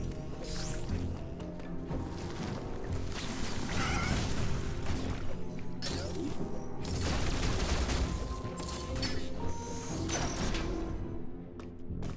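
Blaster fire and enemy hits in Metroid Dread on Dread difficulty: a dense, busy stream of shots, crashes and mechanical clanks layered with game music, fairly quiet overall.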